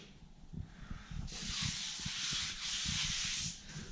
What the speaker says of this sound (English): And again, just sanding that back.